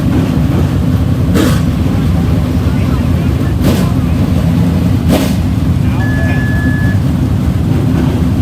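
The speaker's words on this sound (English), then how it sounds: "Start your engine." Race car engines start up and idle for a memorial race, a loud, continuous rumble with a few brief sharper bursts, mixed with wind buffeting on the microphone and faint talk in the background.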